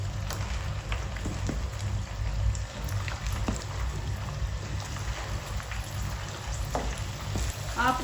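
Suji (semolina) donuts fry in fully heated oil, a steady broadband sizzle with soft crackles and occasional bubbling pops, continuous and close throughout with no talk.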